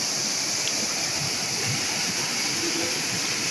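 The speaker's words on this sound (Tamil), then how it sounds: "இங்கே இப்போ தண்ணி எவ்வளோ ஃபோர்ஸாக வருது பாருங்கள்" Rushing water of the Kannimar Odai waterfall near Salem, swollen and forceful after heavy rain: a dense, steady broadband roar with no breaks, close and loud throughout.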